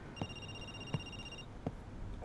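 A telephone rings faintly in a video game, a thin electronic trill lasting about a second, with a few soft dull thumps spaced out around it.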